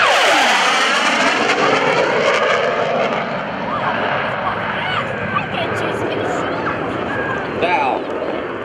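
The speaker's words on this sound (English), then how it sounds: "FA-18 Hornet." An F/A-18C Hornet jet makes a loud, continuous roaring pass at an airshow, its broadband engine noise steady throughout with a slight swell near the end, while an announcer talks over it.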